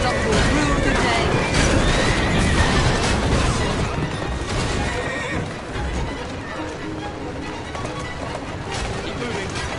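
Horse-drawn carriages in the Assassin's Creed Syndicate video game, loud continuous rush of hooves, wheels and crashing with horse whinnies, under game dialogue throughout.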